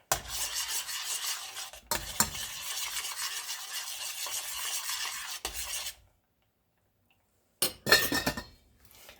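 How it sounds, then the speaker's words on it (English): Long grain white rice is stirred in a pan on the stovetop, a spoon scraping and clinking against the metal in steady strokes over a soft simmer. The sound pauses in near silence, then a few more clinks follow. "I'll get a little stir every once in a while to make sure it doesn't stick to the bottom of my pan"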